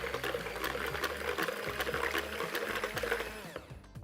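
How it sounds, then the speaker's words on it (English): An electric whisk runs steadily in a bowl at raised speed, mixing milk into Yorkshire pudding batter with a continuous whirring and sloshing churn, close and fairly loud, easing off at the end. "Turn the speed up again on the whisk."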